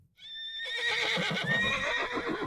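A horse spooked by a bursting firecracker lets out a loud, close whinny, a high shrill neigh that breaks into rough, shuddering snorts and what may be hoof movement.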